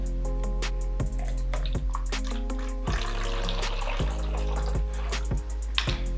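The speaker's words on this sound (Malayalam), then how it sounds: "ഇനി നമുക്ക് ഈ ഓയിൽ നമ്മുടെ ഈ കുപ്പിക്കകത്തോട്ട് മാറ്റാം" Vegetable oil pours into a bottle during home biodiesel making, a steady liquid trickle and drip with light clinks, under a constant low background hum and no speech.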